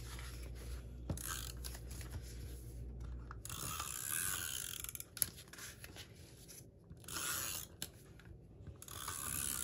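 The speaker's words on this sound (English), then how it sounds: "So I'm gonna go ahead and I'll use this tape." Tape pulled and pressed down onto paper while assembling a 5x7 scrapbook mini album, giving short ratcheting, rubbing and peeling sounds in close, quiet bursts with brief pauses and no talking.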